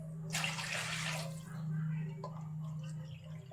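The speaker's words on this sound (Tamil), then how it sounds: "ரெண்டரை கப் அளவுக்கு தண்ணி சேர்த்துட்டு இதை நல்லா மிக்ஸ் பண்ணிக்கலாம்" Water is poured into rava while making pongal, a short burst of splashing pouring near the start that settles into light trickles and drips over a steady low hum, with no talk.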